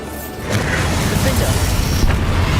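A Bombarda spell blast in Hogwarts Legacy, a loud deep booming explosion with a rumbling low tail, swelling and holding through the moment amid game effects, with a voice speaking over it.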